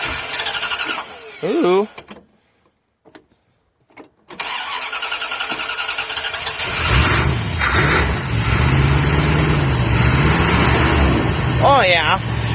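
A 1978 Dodge Sportsman RV with a 440 engine cranks on a newly fitted starter, then catches and roars into a loud, rough idle with a few revs. A person speaks briefly over it.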